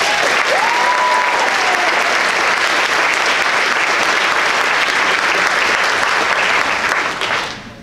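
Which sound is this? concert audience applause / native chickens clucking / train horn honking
concert audience applause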